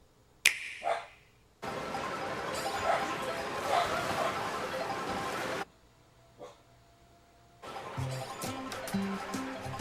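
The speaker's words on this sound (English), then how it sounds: "He needs to stop barking." A dog barks and yips during a live reaction stream, with sharp bursts near the start and later, heard over loud game presentation audio and background sound.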